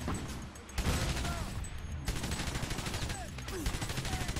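An armored vehicle's mounted machine gun fires in the war game Frontlines: Fuel of War, a loud, close, continuous rapid stutter of shots with a brief pause between long bursts.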